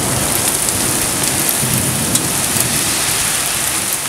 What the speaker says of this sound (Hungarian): Visszafelé mellett azután jól elkapott minket az eső.